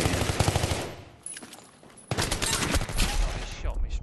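Rapid bursts of gunfire in a team shooter match at Seine Crossing fill the opening second, drop to a quiet lull, then return as dense, loud firing with voices calling out underneath.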